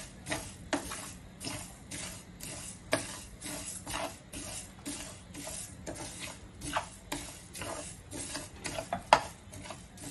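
Urad dal and black pepper dry-roast in a pan for Malvani vade, with a spoon scraping and stirring in a steady, close rhythm of gritty rasps and light sizzle. No one speaks.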